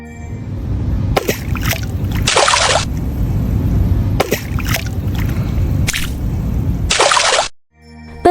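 Rough sea waves surge and crash in repeated loud bursts of splashing and sloshing water, each wave whooshing in close before breaking off, with brief quieter gaps between.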